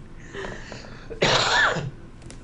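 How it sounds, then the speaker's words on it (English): A person coughs once, a short harsh burst near the microphone, preceded by faint throat noise in a quiet room. "Sorry, I'm coughing again."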